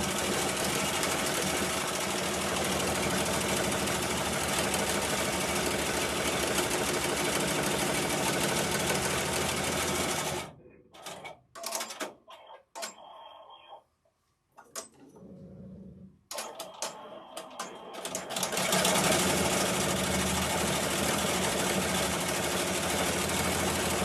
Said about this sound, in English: You can see this black thread trying to break again.